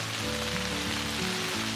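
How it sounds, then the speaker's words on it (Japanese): Heavy rain pours down at a campsite by Lake Biwa, a dense, loud, continuous hiss drumming on surfaces close by, with no voices. "大雨や"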